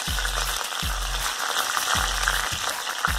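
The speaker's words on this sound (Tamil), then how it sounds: "நல்லா வதக்கிடலாம்." Garlic sautés in hot oil with red chillies and curry leaves in a pan. A steady hiss runs beneath a few low clunks from stirring, and no voice is heard.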